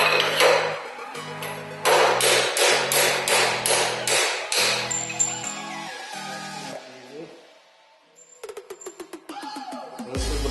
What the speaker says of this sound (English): So I'm gonna try to hammer out this bottom one right here.